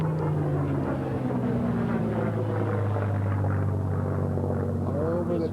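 An aircraft at a WWII airshow makes a high-speed pass, a loud, continuous engine drone whose pitch slowly sinks as it crosses, filling the whole stretch.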